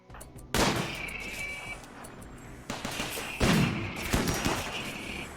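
Turrets firing at raiders in the video game RimWorld: a few separate bursts of sharp shots and thuds, moderately loud, with quiet gaps between volleys.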